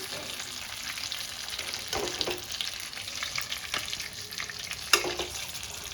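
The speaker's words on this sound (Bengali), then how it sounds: "ভালো করে এপিট ওপিট করে খুব সাবধানে আমাকে ভেজে নিতে হবে প্রত্যেকটি সাটে" Chicken satay skewers fry in hot oil, giving a steady close sizzle with crackling bursts and a few sharper pops, and no voices are heard.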